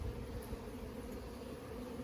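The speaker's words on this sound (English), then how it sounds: "wall-to-wall bees" A packed urban honey bee hive gives off a soft, continuous buzzing hum close by, steady and low without pauses, with no one talking.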